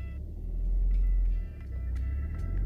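Manual-transmission car pulling away under throttle, a steady low engine rumble that swells and eases slightly as it moves off, with no talk over it.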